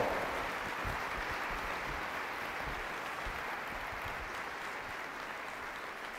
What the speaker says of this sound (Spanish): Démosle un buen aplauso a él